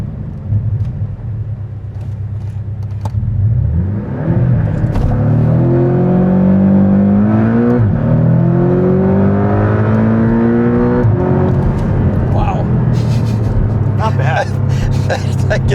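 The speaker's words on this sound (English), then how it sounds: "Let's do a quick launch control." A 2019 Porsche 718 Cayman with PDK gearbox revs up for a launch-control start and then pulls hard through rising gears, loud and close, with people talking over the roar.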